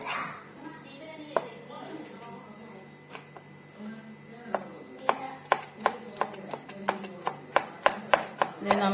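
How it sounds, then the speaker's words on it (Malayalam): A knife chops garlic finely on a board, first a few scattered cuts, then a quick, even run of sharp taps close by, with speech over parts of it. "വെളുത്തുള്ളി കുഞ്ഞുകുഞ്ഞായിട്ട് അരിയുക."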